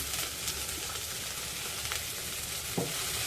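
Chopped okra fries in a pan with a steady, dense sizzle that runs the whole time, broken by a few faint scrapes and clicks of stirring.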